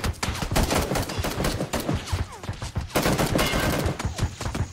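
Rapid automatic gunfire from another player in PUBG comes in dense, continuous bursts, loud and close throughout, with barely any pause between shots.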